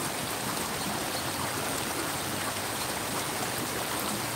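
Creek water flowing steadily in a continuous broadband rush near a motel beside a mountain creek in Gatlinburg, with no breaks and no voices.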